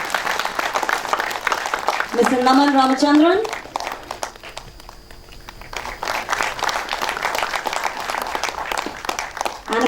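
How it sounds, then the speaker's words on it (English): Audience applause at a film festival in-conversation session, steady clapping throughout under a host's amplified speech, with a brief burst of musical tones partway through. "you can do better with the applause"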